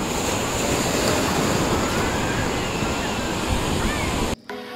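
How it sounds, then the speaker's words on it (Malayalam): Sea waves at Varkala beach roar in a continuous, loud surf with wind rushing across the microphone, then the sound cuts off abruptly just before the end. "ഇത് എവിടെ ഇങ്ങനെ ഇരുന്നുകൊണ്ട് ഈ തിരമാലകളുടെ ഭംഗി ആസ്വദിക്കുക എന്ന് പറയുന്നത് രസമുള്ള ഒരു കാര്യമാണ്"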